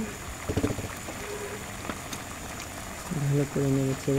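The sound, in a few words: chicken curry with potatoes simmering in a pot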